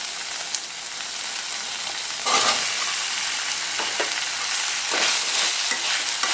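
Radish and onions sautéing in a pan over a medium flame, a bright steady sizzle broken by several spatula stirs and scrapes, close up with no talking.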